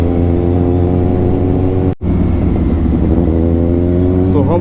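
Loud, steady exhaust drone from a Kawasaki Ninja 1000 with an Austin Racing full exhaust system, riding through city streets with a continuous rich engine note, a brief cut near the middle, then resuming.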